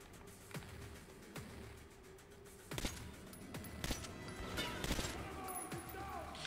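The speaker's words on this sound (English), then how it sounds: "use alt fire to shoot both shots at once" Alt-fire double gunshots in Metro Last Light ring out as a few sharp, loud cracks spaced a second or so apart over steady in-game ambience, with talk in the background.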